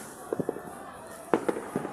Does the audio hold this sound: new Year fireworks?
yes